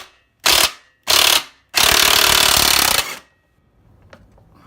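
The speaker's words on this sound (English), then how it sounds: "I have an impact driver." An impact driver hammers at the rear sprocket nut of a Kawasaki ZX motorcycle in three loud, close bursts: two short rattling blasts, then a longer sustained one, before quiet returns.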